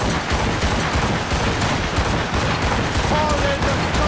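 Ship cannon fire in an Assassin's Creed Rogue naval battle: a dense, continuous barrage of booming shots and crackling gunfire, loud and unbroken throughout, with a shouting voice mixed into the fight.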